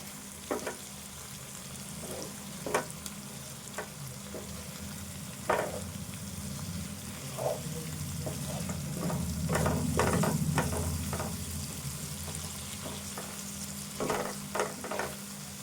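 An egg curry with chili powder fries in a pan under a continuous low sizzle, with intermittent clacks and scrapes from a spoon stirring the masala throughout.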